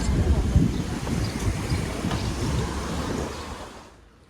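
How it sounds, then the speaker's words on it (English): Windy surf at Croyde Bay Beach in North Devon: a steady roar of breaking waves mixed with heavy wind buffeting on the microphone, loud and continuous, tapering off at the end. "The water temperature is 15 Celsius, which is almost warm enough for me to go in, but it's super windy"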